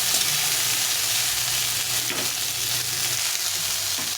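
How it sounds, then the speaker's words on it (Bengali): Pointed gourd and vegetable stems frying in oil in a pan, a steady dense sizzle throughout with occasional soft stirring scrapes, close and alone without talk. "এখন দিয়ে দেবো এই পটলগুলো, পটল আর ডাঁটা যেটা আছে সেটা সবটা দিয়ে দেবো, দিয়ে এটাকে ভালো করে ভেজে নিতে হবে"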